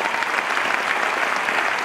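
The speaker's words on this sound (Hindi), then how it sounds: "सभी देवियों के लिए जोरदार ताली।" A crowd claps for the women at a stage event: a dense, steady wash of applause, loud and continuous throughout.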